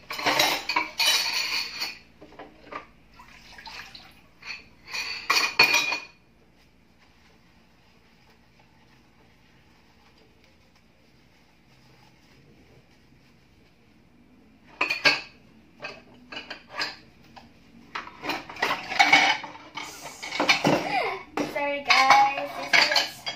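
Dishes and cutlery clatter and clink in bursts during a school performance, loud busy clusters at the start and again near the end, separated by a long quiet stretch in the middle.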